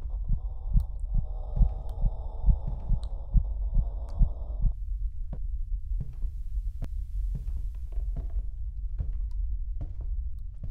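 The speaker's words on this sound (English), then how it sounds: "Heartbeat and heavy breathing." Heartbeat in a horror video game, a steady low thumping pulse repeating about every second and a half, with a droning hum in the first half and heavy breathing implied, no talk.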